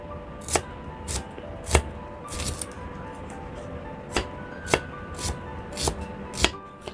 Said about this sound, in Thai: หั่นหอมแดงค่ะ